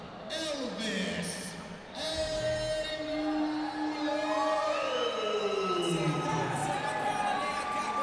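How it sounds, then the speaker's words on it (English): Crowd cheering for an MMA fighter at an amateur fight event, with sustained whoops and shouts from the audience rising and continuing across the whole stretch. "Big cheer for John Elvis Angelo fighting out of Van Nuys"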